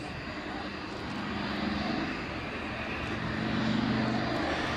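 Piston engines of a B-25 bomber at the Dunsfold Wings and Wheels air show, a steady loud droning roar that swells slightly toward the end, heard on its own without talk.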